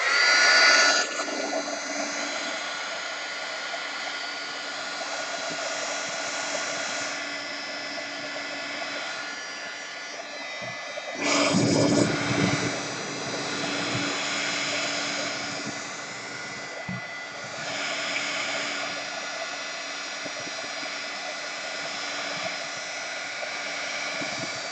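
A hair dryer blowing over a gouache painting, a steady loud whirring roar held close for the whole stretch, with brief shifts in pitch as it moves and no talk.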